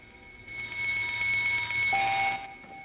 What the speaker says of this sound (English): that bell sound